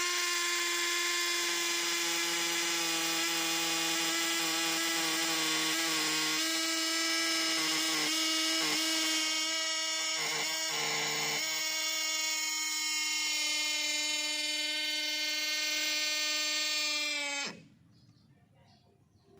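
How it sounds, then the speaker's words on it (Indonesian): An NRT Pro DC743 cordless brushless hammer impact drill with its 8 mm stock bit bores into a concrete wall behind a house: a loud, steady, high motor whine runs for about seventeen seconds, then cuts off abruptly. "mengebor tembok beton di belakang rumah saya menggunakan hammer impact"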